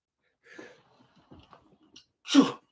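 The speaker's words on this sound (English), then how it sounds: "excuse me, I had to sneeze." A single sharp sneeze near the microphone, preceded by a few faint breaths and murmurs in an otherwise quiet room.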